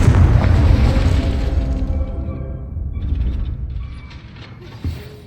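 Confringo fire-blast spell in the Hogwarts Legacy video game, a loud booming burst at the start that rumbles and fades over several seconds, with a short sharp thump near the end and no talk.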